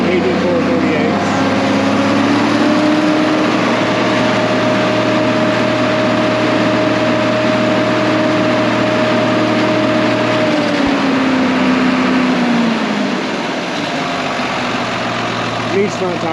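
A John Deere 4430 tractor, an older machine brought back after sitting unused for 22 years, idles steadily at close range with a constant engine drone, the pitch easing lower near the end.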